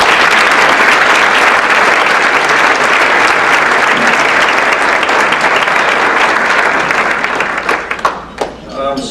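Sustained applause from the audience at a National Philanthropy Day awards event, honoring past award winners; loud, dense clapping filling the room that thins and tapers off in the final second.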